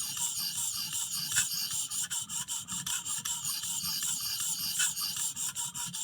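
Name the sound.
sharpening the heel of a WE Banter pocket knife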